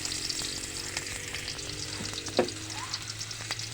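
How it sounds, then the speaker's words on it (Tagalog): Papaya sautéing in a pan while adobo sa gata is cooked, a steady soft sizzle with faint scraping stirs and one sharper clink partway through, heard close and quiet with no talking. "Kaya ang igigisa na natin ay ang papaya."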